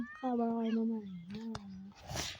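A cat gives a long, drawn-out meow nearby, clear and sustained for over a second, with a short rustle at the end.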